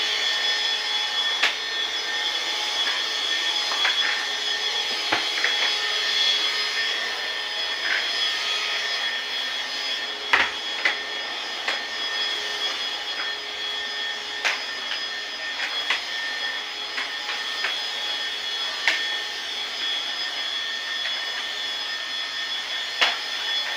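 A vacuum cleaner runs continuously as a household helper cleans indoors, a steady high whine with faint clicks and knocks from the nozzle moving around, with no talking.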